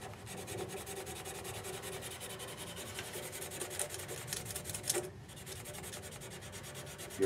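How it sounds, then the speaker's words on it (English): Sandpaper rubs back and forth on a wooden shaving brush handle in quick, even strokes, close and fairly quiet, with a brief pause near the end and no talk. "So let's just go ahead and get this sanded up now."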